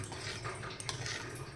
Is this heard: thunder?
no